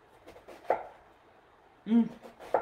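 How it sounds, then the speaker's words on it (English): A knife chopping onion on a cutting board as part of plant-based spaghetti prep: two or three sparse, faint strikes, with a brief vocal sound between them. "now I'm going to go across this way, and you'll see you'll have your chopped onion"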